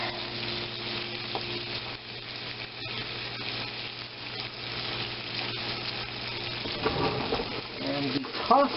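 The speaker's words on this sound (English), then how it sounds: "now we put our onion in the butter" Onion sautés in butter with a soft, continuous sizzle and occasional light clicks of a utensil, and a voice speaks briefly near the end.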